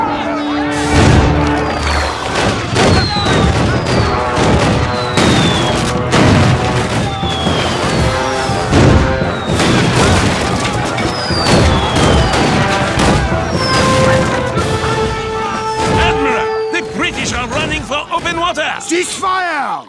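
Naval cannons boom again and again in a sea battle off Yorktown, loud and continuous, with shouting voices and crashing impacts layered through the barrage.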